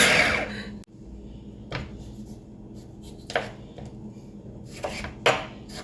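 Knife chopping an onion on a board in a home kitchen, a few scattered sharp cuts spaced unevenly amid quiet background room noise.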